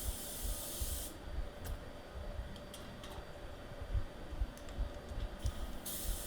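An aerosol can sprays a second coat of blue paint for racing stripes, a loud close hiss that cuts off after about a second and returns near the end, with faint clicks and rustling in between.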